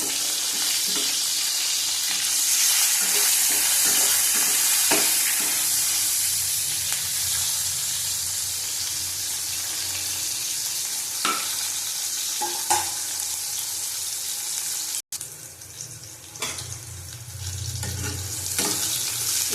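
Vegetables, bitter gourd and brinjal, frying in oil in a pan, a loud continuous hiss of sizzling with occasional clinks and scrapes of stirring, easing slightly near the end.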